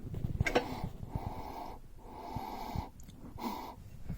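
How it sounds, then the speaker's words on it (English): Someone sniffing espresso coffee beans close up: three long, audible nasal inhalations separated by short pauses, with faint handling noise between them. "Let's give it a quick sniff test."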